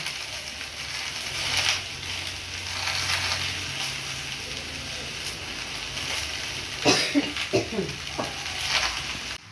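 Malabar spinach (pui shak) is stir-fried in a pan: faint, steady sizzling with scraping and stirring clatters, busier toward the end.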